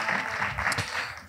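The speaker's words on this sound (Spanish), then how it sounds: "fuerte aplauso para Juan Dávila" Applause from a comedy club audience fills the whole short stretch, dense, steady and fairly close, with a faint trace of voices underneath.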